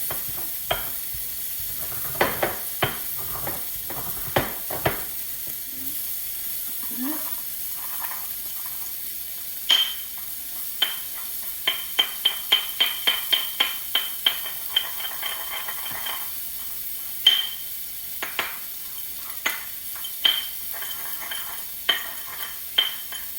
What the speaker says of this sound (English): we're going to start grinding our garlic first